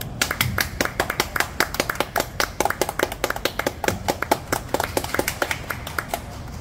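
A round of hand clapping from a small group or a few people, loud and close, with sharp rhythmic claps running steadily throughout and no talking.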